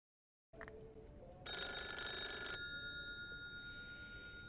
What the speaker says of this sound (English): You're woken up from your deep sleep from a phone call